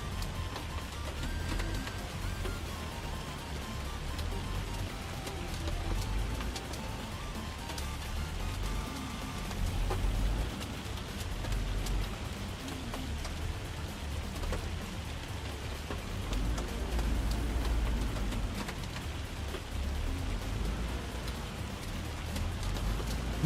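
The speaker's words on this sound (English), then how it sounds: "Oh, this hail." Hail pelts down steadily in Farming Simulator 25, a dense continuous patter with low rumbling underneath, holding an even loudness throughout without talk.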